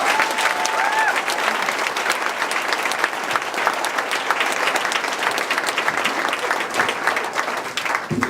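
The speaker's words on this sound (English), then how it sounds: "Can we give her a huge round of applause?" Wedding guests give sustained, lively applause during reception speeches, thick steady clapping filling the room at close range with scattered cheers.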